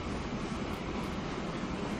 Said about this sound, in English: Here comes the train we're going to sell off.